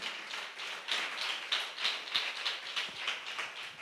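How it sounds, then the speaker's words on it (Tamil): A congregation in a church service claps hands in praise, giving a steady stream of crisp, rapid overlapping claps that hold an even, moderately loud level throughout, with no voices. "நல்ல கைத்தட்டி கர்த்தருக்கு ஸ்தோத்திரம் சொல்லுங்க"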